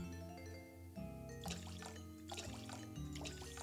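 A splash of milk poured in the Bakery Simulator video game, a faint liquid trickle and dribble heard under steady background music.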